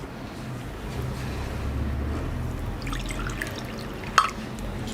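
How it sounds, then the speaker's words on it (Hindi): Water is added by hand to ground moong dal face wash, giving soft wet dripping and sloshing close up, with a sharper splash near the end. "पानी ऐड किया।"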